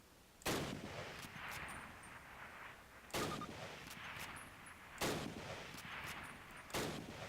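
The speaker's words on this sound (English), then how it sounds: "Turn to the left, move to the fence, and fire 2 rounds at your target." Four loud, sharp Springfield rifle shots ring out in the Call of Duty video game, spaced roughly two seconds apart, each followed by a rumbling echo and a steady ambient bed between them.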